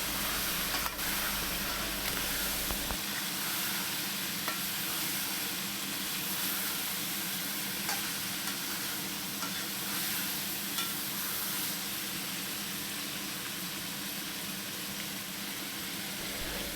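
Chicken mince with cabbage and ground coriander sizzling in a pan while being stirred, a continuous close hiss and frying crackle with faint scraping throughout, no talking.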